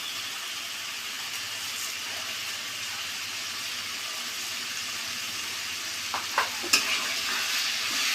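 Mung dal stirred into frying bottle gourd in a pan, a continuous hissing sizzle with a few light spoon scrapes and taps toward the end.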